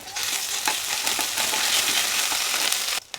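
Ginger garlic paste sizzles in a hot pan, a dense continuous frying hiss with occasional stirring clicks close by, cutting off abruptly at the end, with no talking.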